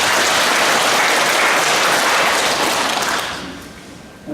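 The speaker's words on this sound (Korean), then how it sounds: "우리 성가대 축복하고 박수 한번 해줍시다." Church congregation applauding the choir at a Sunday worship service, a dense, steady clapping that holds for about three seconds and then thins and fades toward the end.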